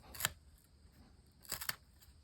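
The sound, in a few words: Worktuff Voyageur knife slicing nylon rope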